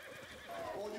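A horse neighs in the video game Ghost of Tsushima, a brief whinny rising over soft hoof clatter, with a voice talking over it.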